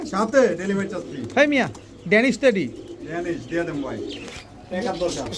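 Danish pigeons coo in repeated rolling phrases, close and fairly loud, with a few overlapping calls and someone speaking at times alongside them.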